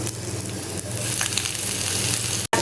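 Large sliced onion frying in hot oil for an egg recipe, a steady loud sizzle crackling throughout with a brief gap near the end.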